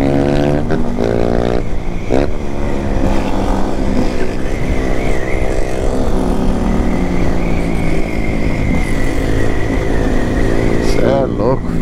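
A 2020 Honda XRE300 motorcycle rides at night through the countryside near Indaiatuba, its engine holding a loud, steady drone with pitch sweeps as it revs and shifts.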